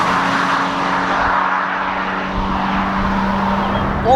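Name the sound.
Toyota GT86 naturally aspirated engine accelerating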